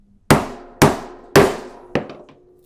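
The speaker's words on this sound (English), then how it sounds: "It'll take 1 or 2 good blows to get this strap cutter to punch through" A hammer strikes a strap end punch four times to cut through leather for a belt or bag, each blow a sharp, close, ringing smack that decays quickly, the last hit lighter.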